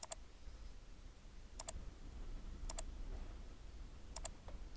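A computer mouse clicks in double taps, four paired clicks spaced about a second apart, crisp and close over a faint low hum in a quiet room.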